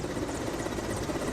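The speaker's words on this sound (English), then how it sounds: "A smoke signal guides a helicopter in to repatriate the dead soldier's body." A helicopter flies in to a remote forward base in Congo, a steady rotor thrum and engine drone heard at moderate distance without pause.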